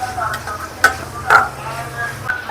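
Vegetable fried rice being stirred in a pan: spoon scrapes and soft sizzling, with several distinct stirring strokes over a low steady frying hiss, fairly close.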